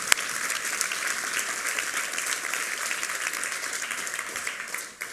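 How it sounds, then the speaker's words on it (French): A church congregation claps and applauds steadily for several seconds, a dense wash of hand claps that fades out at the end. "Et on applaudit ce que Dieu va faire là-bas, un peu plus fort"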